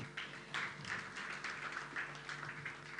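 Audience clapping at an International Women's Day bell-ringing event, faint and steady for a few seconds with no voices over it.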